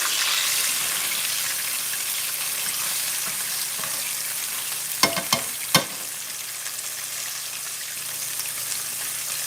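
Steak sizzles in hot oil in a pan, a dense continuous crackle throughout, punctuated midway by a few sharp pops or utensil clicks.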